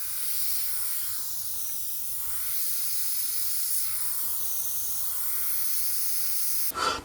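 Airbrush spraying paint, a soft steady hiss of air that runs continuously for several seconds before a brief clatter at the end, close and with no talking.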